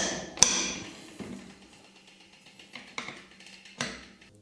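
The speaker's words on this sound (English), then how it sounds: "now I will just hit the wrench" A wrench is struck to tighten a bicycle pedal on the drive side, giving one sharp metallic hammer strike followed by several lighter taps spaced over a few seconds, close by and otherwise quiet.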